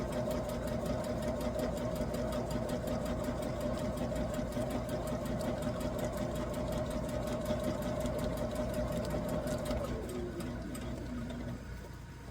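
A sewing machine stitches through layers of plastic for a homemade ruler holder. It gives a continuous, close, rapid whirring chatter that slows and winds down near the end.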